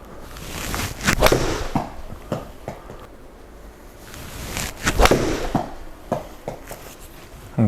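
Several sharp golf shots struck with an 8 iron, each a crisp impact crack with brief decay, spaced apart in a quiet indoor hitting bay alongside a launch monitor, with soft shuffling between swings.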